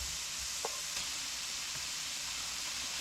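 Sliced ham frying in a pan on high heat while being stirred. A steady, faint sizzle with a couple of soft scrapes, no talking.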